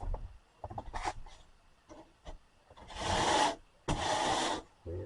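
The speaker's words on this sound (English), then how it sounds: "This is where this rasp come into play at." A hand rasp files along the edge of a sheetrock board for a ceiling: short scraping strokes at first, then two longer, louder, gritty passes close to the microphone, with no talking.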